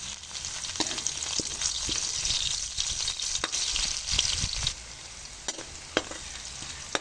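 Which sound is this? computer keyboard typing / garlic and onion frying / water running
garlic and onion frying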